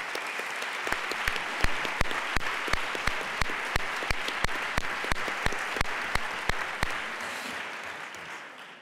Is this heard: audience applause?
yes